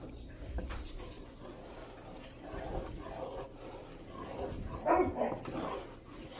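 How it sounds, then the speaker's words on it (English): A dog barks and growls aggressively at new puppies somewhere in the background, a rough, uneven run of muffled barks with a louder burst near the end. "The dog's back there being a little aggressive with the new puppies we got."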